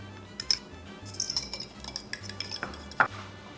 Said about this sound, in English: 1 tablespoon of melted butter to our 1 egg, which I'm gonna beat right now.